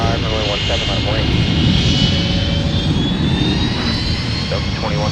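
An airliner taking off from runway 17 at snowy Minneapolis–St. Paul airport gives a steady, loud engine roar with a rising whine, while a radio voice talks over it throughout.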